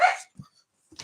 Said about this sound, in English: Motherfucking dog.